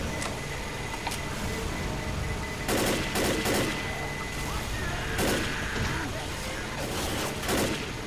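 Muffled gunfire in Left 4 Dead sits under constant game noise, with a few louder bursts of shots spaced a second or two apart and faint voices in the background.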